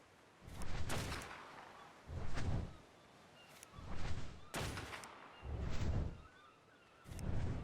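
Gunfire striking a creature in the modded video game Ark Survival Evolved, heard as five evenly spaced heavy bursts of impacts, each about half a second long, separated by quiet gaps.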